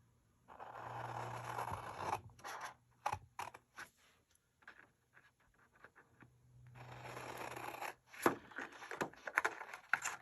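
Scissors cut out a paper embellishment for a scrapbook page, with close crisp snips and scraping paper rustle coming in bursts separated by short quiet gaps.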